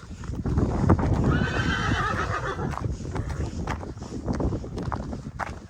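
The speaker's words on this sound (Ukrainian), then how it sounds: "у мене на каналі такого великого коня нема жеребця" A large stallion at a village farm in Pidhaitsi, Ukraine, gives a loud, close whinny while hooves clop on the ground throughout, with wind buffeting the microphone.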